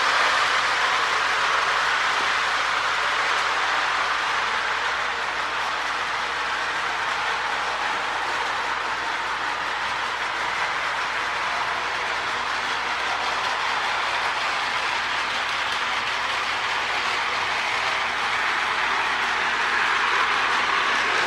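Steady rolling rumble of a Lionel model train with a custom Erie Lackawanna FA locomotive running continuously along layout track, even and unbroken, with faint rhythmic clicking and no voices.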